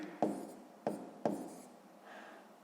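A pen writes numbers in a maths exercise book, giving three sharp taps with short scratchy strokes after each, close and clear, followed by a softer scribble and no talk.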